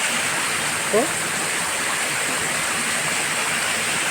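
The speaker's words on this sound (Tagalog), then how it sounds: "Funan Falls. Alright. Nakita na natin malapitan." Honan Falls in Isabel, Leyte, pours as a steady, dense roar of falling water heard from close by, constant throughout with only a brief faint blip near the start.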